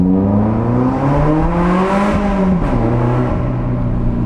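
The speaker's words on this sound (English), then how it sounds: "I fitted the Lorini sports exhaust to the sports cat, which means that it sounds beastly." A loud Lotus sports car with a Larini sports exhaust and sports cat revs continuously in a tunnel, its deep exhaust roar rising and falling in pitch with a reverberant, enclosed sound.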